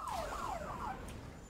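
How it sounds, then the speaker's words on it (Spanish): A wailing siren-like alarm going off in a video game, a rising and falling electronic tone repeating a few times over a quiet background, fairly faint. "aquí le están robando, que sonó la alarma por allá"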